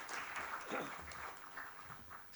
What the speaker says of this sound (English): Everyone, please make a huge round of applause for Dr. Sudhir Kumar Agarwal.